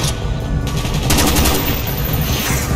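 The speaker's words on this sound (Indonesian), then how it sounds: "gua jadi bisa menghujani peluru mereka ya teman-teman" Sustained, dense automatic gunfire rattles loud and continuous in the Call of Duty Black Ops video game, a steady barrage of rapid shots with battle noise underneath and no talking.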